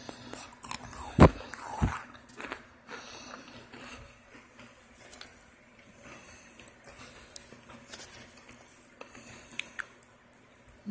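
Argo microwave chunks crunched in the mouth, a sharp bite followed by scattered crisp crackles and chewing, close and fairly faint with no talk.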